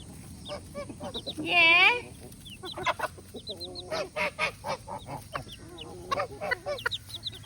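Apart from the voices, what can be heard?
baby Frizzle chicks peeping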